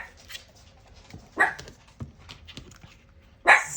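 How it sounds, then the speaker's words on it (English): Dogs barking indoors at home, a few sharp barks near and far with whimpering and yips between them, over low background noise. "So the dogs are barking"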